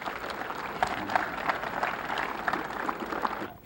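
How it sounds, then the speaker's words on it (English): Audience applause at a 1994 hunting awards event honouring a winner named Bob, a steady patter of many hands at moderate distance, fairly soft and even, fading out at the end. "We'll give Bob a round of applause here."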